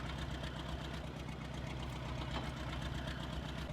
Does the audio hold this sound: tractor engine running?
yes